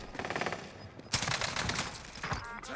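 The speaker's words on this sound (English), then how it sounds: "I'm being shot in the back" Gunfire from the video game Warzone Pacific hits the player: rapid, crackling shots that come in quick clusters, fairly close and sharp, with a voice briefly mixed in.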